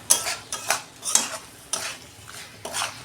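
Kochur loti, taro stolons, stir-fried in a pan, with a regular series of spatula scrapes and stirs about every half second over a low, steady sizzle, close by.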